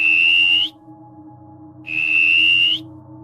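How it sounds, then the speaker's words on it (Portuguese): Two sustained high whistles, each lasting under a second, separated by a short pause, loud and clear over a faint low hum in the background. "ele ouviu um assobio respondendo ao primeiro assobio dele"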